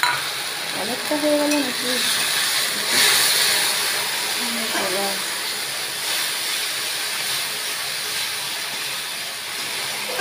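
Onion and ginger-garlic paste masala fries for a chicken curry with a steady close sizzle and occasional stirring scrapes, while someone talks briefly over it.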